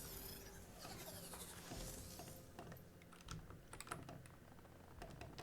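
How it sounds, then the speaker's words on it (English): Rapid mouse clicks and key taps during play of the Shadowrun Hong Kong computer game, a close, dry run of sharp clicks with short pauses, steady throughout with no talking. "Just keep on clicking."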